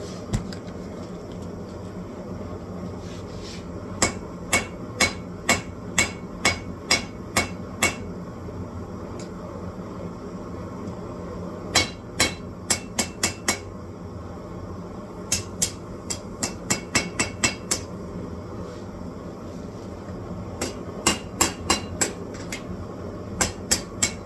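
Hammer strikes on a knife blade billet ring out in short bursts of sharp, metallic taps, several quick blows per group with pauses between, fairly close over a low steady background hum.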